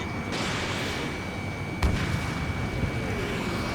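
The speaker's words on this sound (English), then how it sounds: "Strider 1, missile launched." Missile launch and explosion sounds from the Ace Combat 7 combat flight game: a steady roaring rumble with one sharp burst near the middle, continuous and fairly loud throughout.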